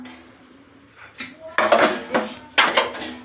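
Rice served from a pot at lunchtime, a few sharp metallic scrapes and clinks of a serving spoon against the pot rim, close and fairly loud, coming in two or three distinct bursts.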